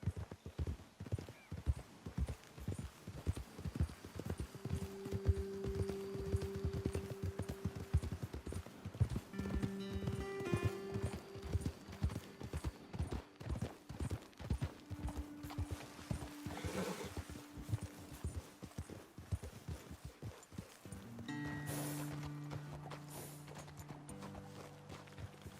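Horses ridden in the video game Red Dead Redemption 2 give a steady, close clip-clop of hooves with a few neighs and whinnies, plus creaking tack and some faint background sounds.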